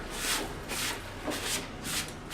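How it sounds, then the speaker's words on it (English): A work table in a workshop is wiped clean, giving several soft brushing, rubbing strokes in a steady back-and-forth rhythm, close and moderately quiet with no talk. "Quick clean of the table"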